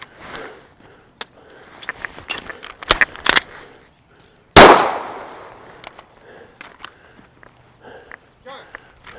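Handgun shots during combat handgun practice: one sharp, loud report with a decaying tail stands out amid scattered clicks and handling noises, with a voice heard briefly.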